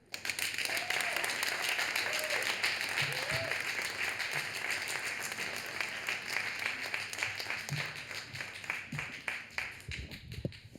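An audience at a Boston poetry event applauds a poet after her reading, sustained clapping that thins toward the end, with faint voices and cheers mixed in.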